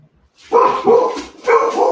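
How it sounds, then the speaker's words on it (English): A dog barks in two quick bursts, loud and close, with a short pause between them and no talking. "Stop barking, you guys."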